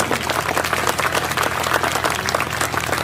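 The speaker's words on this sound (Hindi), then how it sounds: "तालियां कमजोर रह गई आपकी, जितनी होनी चाहिए उतनी नहीं आई।" Steady applause from a live audience at a Hindi motivational talk, dense clapping sustained evenly for the full stretch, with no voice on top.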